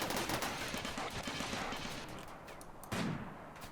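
Turrets in RimWorld open fire on a centipede mech in a desert colony, a dense, continuous crackle of rapid gunshots lasting the whole stretch, loud and close, with a fresh sharp burst of shots near the end.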